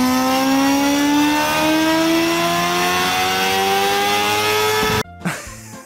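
A girl vocally imitating a revving motorcycle, a loud sustained buzzing engine tone that slowly climbs in pitch for about five seconds before cutting off abruptly, followed by a short scuffling noise.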